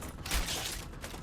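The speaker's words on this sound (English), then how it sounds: "Reloading." A gun magazine being swapped in the video game StarRupture: a quiet, brief run of mechanical clicks and metallic clacks lasting about a second.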